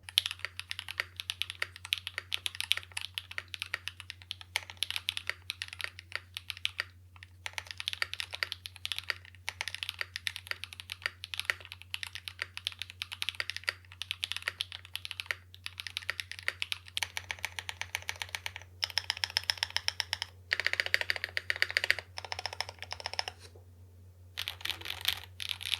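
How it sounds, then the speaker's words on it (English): Steady stream of crisp keystrokes on a tape-modded Fuji65 mechanical keyboard with poppy stabilizers, close and clear, rhythmic clacking bursts with short pauses and no talking. "The mod especially made the stabilizers pop more, and overall gave the Fuji a better sounding typing experience."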